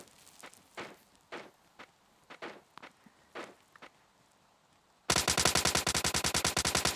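Footsteps and scattered shots sound faintly in a PUBG Lite match, then a loud, close burst of rapid automatic gunfire breaks out and rattles on steadily to the end.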